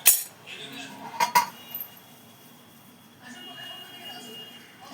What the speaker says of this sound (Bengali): এটাকে নাবিয়ে একটা থালায় ঢেলে নেব।